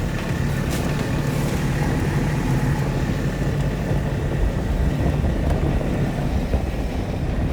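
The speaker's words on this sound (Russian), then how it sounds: "Рев мотора, ощущение свободы и мои попытки не выронить телефон и удержать снегоход." A snowmobile engine roars steadily while riding across snowy Finnish country, loud and close with wind buffeting the microphone throughout.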